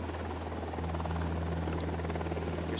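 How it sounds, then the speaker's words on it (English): A surveillance drone hovering overhead in Ghost Recon Wildlands, a steady low motorized hum with a constant droning tone, moderately loud and continuous throughout, with no talking. "Stay low. The drone is up."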